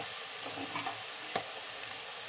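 Ginger sizzles in hot oil in a pan for fish pickle, a steady bright frying hiss with a few soft scrapes and clicks from stirring, close and without talk.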